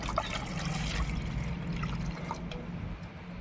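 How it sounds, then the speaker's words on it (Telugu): Water pours steadily into a pot for boiling eggs, a continuous close splashing trickle that lasts the whole stretch with no voices. "తగినన్ని నీళ్లు పోసుకున్నాం"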